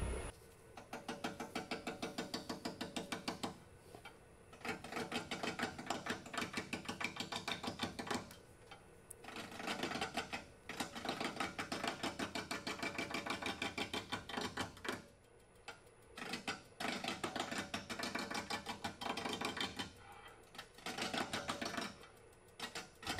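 A wood lathe roughing out a wooden cannon blank, with a rapid, steady chattering of the gouge against the spinning wood in long bursts separated by brief pauses.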